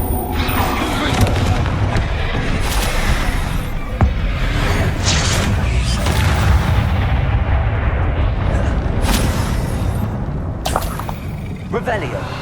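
Confringo blasting spells exploding in Hogwarts Legacy, a steady run of booms and sharp cracks over a constant rumble, with voices talking throughout.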